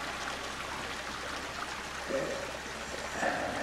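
Water runs steadily down a cascade between garden pond basins, a soft continuous trickling wash with a few brighter splashy moments, heard fairly quietly from nearby with no voices.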